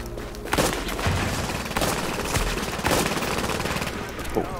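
Turret gunfire in Tom Clancy's The Division, with dense bursts of shots and sharp cracks running steadily through a busy combat soundscape, loud and close with only faint voice traces.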